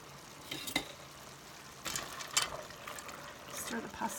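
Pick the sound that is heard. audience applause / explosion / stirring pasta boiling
stirring pasta boiling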